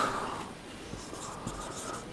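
Pen or marker scratching steadily across a surface while a maths solution about irrational numbers is written out, a soft continuous scraping with faint strokes, close and without talk.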